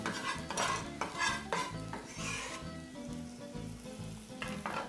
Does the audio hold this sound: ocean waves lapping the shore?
no